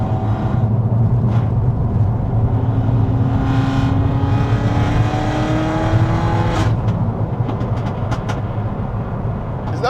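A Peugeot 308 GTi fitted with a decat downpipe drones loudly from inside the car as revs rise steadily, then drop with a sharp crack and a scatter of exhaust pops.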